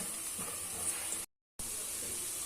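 Sliced onions frying in oil with a pinch of turmeric stirred in, a continuous bright sizzle close by, cut off briefly by a short silent gap before resuming.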